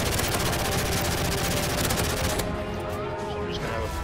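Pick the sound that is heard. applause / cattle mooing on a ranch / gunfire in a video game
gunfire in a video game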